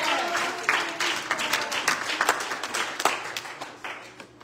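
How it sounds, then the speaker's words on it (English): A church congregation clapping hands together during a sermon, a dense ongoing patter of many hands with sharper individual claps standing out, steady and fairly close throughout. "will you clap hands unto the Lord"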